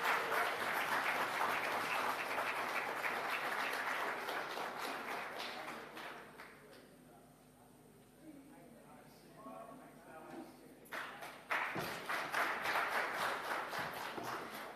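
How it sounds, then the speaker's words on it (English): Applause from a crowd at a Valentine's love-themed festival in Jamaica, loud and dense, fading down partway through, then surging back with renewed clapping near the end. "for initiating that second round of applause"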